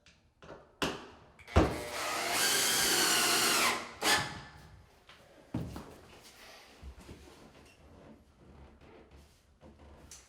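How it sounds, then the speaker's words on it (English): Cordless drill driving a screw into a wall stud during bathroom shower tiling work: a short burst, then a sustained high whine for about two seconds, ending abruptly, followed by quieter handling clatter. "Just going to run this screw into the stud."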